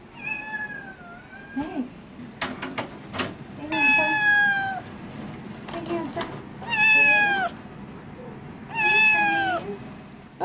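A shelter cat meows loudly and close by, giving about four long, drawn-out calls spaced a couple of seconds apart, with knocks, rustling and a brief human voice in between.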